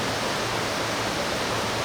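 Steady broadband rush of flowing water from a small waterfall or stream nearby on a trail in Laos, continuous and even with no voices.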